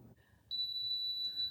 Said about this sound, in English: So the oven is beeping,